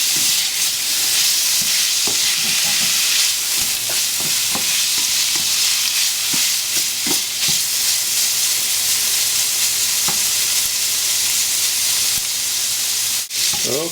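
Meat pieces for jjajangmyeon sizzle and hiss in a hot pan, with repeated scraping stirs and clanks of the utensil against the metal over a steady frying crackle.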